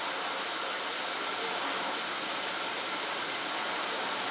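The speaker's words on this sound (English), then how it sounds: "No, vacuum under the table." Vacuum cleaner running indoors near a table, a loud, unbroken motor whine and airflow hiss with a thin high tone, holding steady throughout with no speech.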